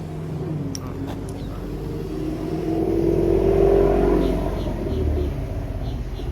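A Ford Mustang driving nearby outdoors, a rising engine rumble and whir that swells through the middle and eases off, with faint background noise and no talk.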